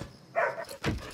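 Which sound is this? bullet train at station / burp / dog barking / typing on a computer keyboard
dog barking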